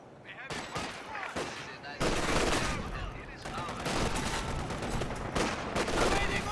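Rapid bursts of MG42 machine gun fire in a World War II strategy game, dense and continuous gunfire and explosions filling the scene, with a faint voice underneath.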